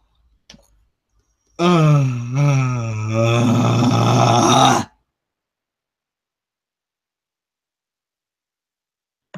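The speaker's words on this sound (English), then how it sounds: "I'm not screaming, I'm just yawning" A person gives one long, loud, drawn-out yawn, rising and falling in pitch for about three seconds before stopping abruptly, with near silence on either side.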